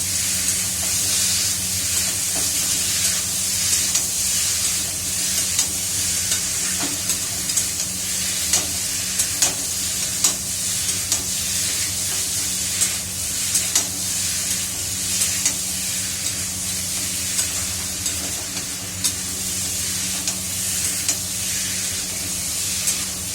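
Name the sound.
potatoes frying and being stirred in a pan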